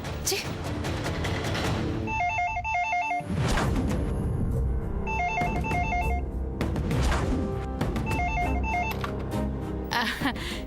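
A telephone rings in three separate warbling bursts, evenly spaced, loud and close, against a busy background.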